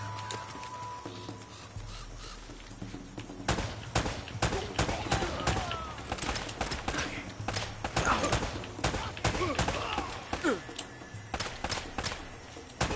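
Bursts of gunfire in Uncharted: Drake's Fortune rattle in quick uneven volleys through the middle and end, sharp repeated cracks mixed with game sounds.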